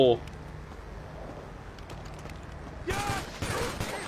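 Gunfire from GTA Online bursts out in the final second: dense, loud cracks arriving in two clusters after a long stretch of quiet game ambience and faint background hum.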